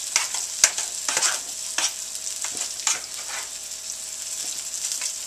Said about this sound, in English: we'll just give it all a good stir